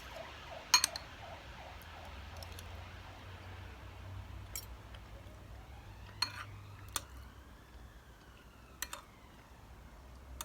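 A wailing emergency siren sweeps up and down in the background, fairly distant, with scattered clinks and ticks of cutlery or dishes nearby.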